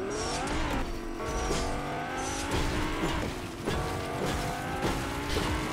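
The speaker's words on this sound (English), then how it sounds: "Does it sound like the car's moving to you?" A car engine revs and strains in Fortnite, with rising whines, repeated gear-like pitch sweeps and tire squeals, loud and close and continuous with no voices over it.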